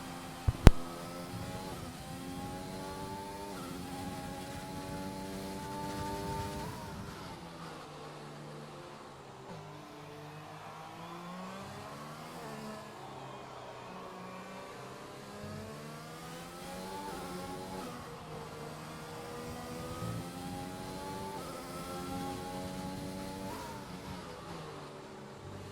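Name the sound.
F1 car engine on an onboard lap, from a video game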